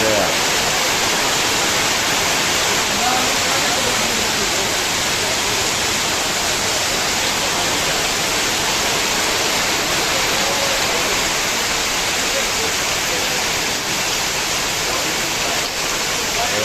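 Heavy rain pours down in Gondal on an October Dussehra day, a loud, dense, unbroken hiss of downpour throughout.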